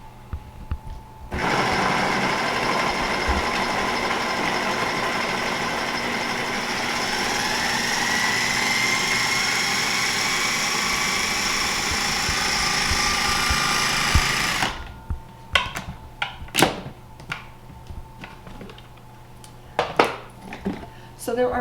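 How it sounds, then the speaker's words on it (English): Electric food chopper whirring steadily as it finely chops cranberries, a loud continuous motor drone lasting about thirteen seconds, then stopping, followed by scattered clicks and knocks of the bowl. "So we're going to chop these until they are quite fine."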